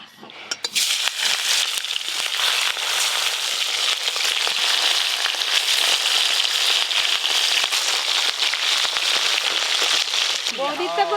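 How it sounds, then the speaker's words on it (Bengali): Halved hilsa fish heads, seasoned with salt and turmeric, fry in a pan with a loud, dense, continuous sizzle and crackle from start to finish, close up, with a voice briefly heard at the very end. "প্রথমে এই মাছগুলো ভাজবো।"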